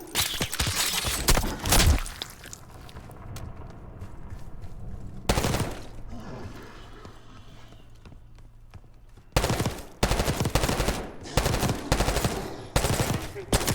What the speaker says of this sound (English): Hearing gunfire. Sounds like it's coming from one of the lower floors.